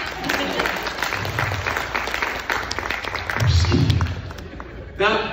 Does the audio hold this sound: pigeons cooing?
no